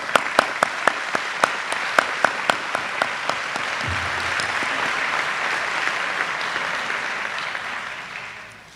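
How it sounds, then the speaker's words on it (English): A crowd at a chamber of commerce annual meeting applauds officers as they are introduced. A few sharp, evenly spaced claps open it, then a full, steady roar of applause builds and fades out. "Join me in a round of applause."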